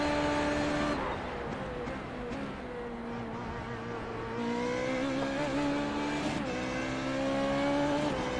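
Formula Renault 3.5 open-wheel race car in the iRacing simulator, its rear-mounted engine whining steadily, with pitch rising through each gear and falling on shifts, alone and continuous throughout.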